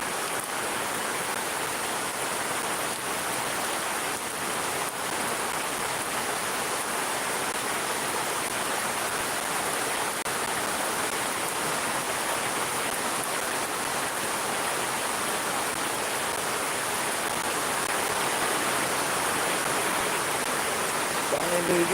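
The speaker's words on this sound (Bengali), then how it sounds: "এত বৃষ্টি" Heavy rain pours down in Shariatpur, heavy enough that water has pooled, making a dense, even hiss that stays steady and fairly loud the whole time, with no voices standing out.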